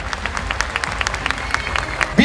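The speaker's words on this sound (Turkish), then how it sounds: "kursiyerlerimiz sizden kocaman bir alkış istiyorlar" A crowd at a stage performance claps in scattered, uneven bursts, with some individual hand claps standing out. There is a sudden louder hit at the very end.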